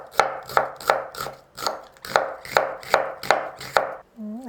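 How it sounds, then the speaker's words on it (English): Knife slicing a red onion into thin slices on a cutting board: about ten crisp, evenly spaced chops in steady rhythm, close and clear, ending with a brief squeaky scrape. "I'm going to slice the red onions, and just to make sure that we get nice thin slices"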